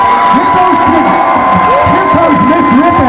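A crowd at a K9 high-jump dog competition cheers steadily, with layered shouts and whoops rising and falling over a dense, continuous roar for about three seconds.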